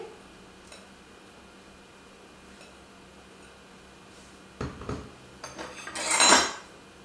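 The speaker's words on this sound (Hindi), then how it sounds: "अब इस मैं एक ही बारी में सारे फ्लोरेट्स डाल दूंगी" Cauliflower florets for Manchurian gobi hit hot oil in a pan, starting with a few clinks and then swelling into a loud, bright sizzle near the end. The clip is quiet at first.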